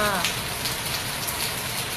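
Heavy rain pouring down around the front of a house and its small garden, a dense, continuous hiss of drops striking surfaces, loud and steady throughout.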